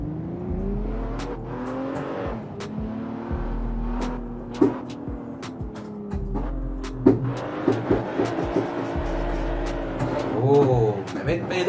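A BMW Z4 in the Assetto Corsa racing game revs and accelerates around a track during a drift challenge, engine note rising and falling with repeated gear shifts and occasional tire noise, while people talk over it.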